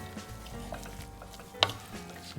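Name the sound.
garlic sizzling while stirred in pan for fondue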